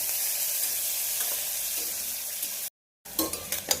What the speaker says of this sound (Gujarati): ડુંગળીને આપણે બરાબર શેકવાની છે।